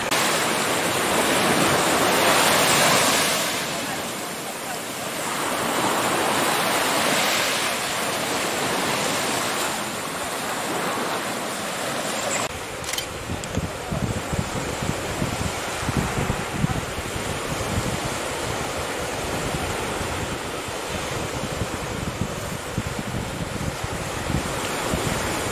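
Sea waves on a quiet beach in Ibiza wash in as a broad, continuous roar mixed with wind buffeting the microphone, loud and steady throughout.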